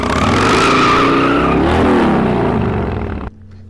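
A loud, harsh scraping slide of a Harley-Davidson motorcycle going down on pavement, with squealing, grinding tones for about three seconds, then an abrupt stop leaving a low hum.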